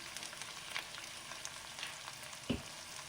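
Green chillies, curry leaves, chilli flakes and asafoetida fry in a pan for instant rava idli, giving a faint steady sizzle with soft crackles and one brief knock near the end.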